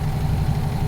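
A truck engine in American Truck Simulator runs with a steady low rumble, consistent and close, without clear jake brake bursts. No one speaks.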